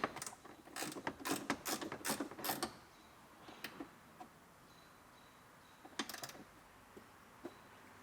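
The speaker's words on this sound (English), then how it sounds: "Now we can bolt our seatbelt into our pillar." A ratchet bolts a seatbelt anchor into the pillar of a rebuilt, previously totaled Acura RDX: a quick run of close clicking ratchet strokes, then scattered single clicks and a short final burst, with quiet pauses between.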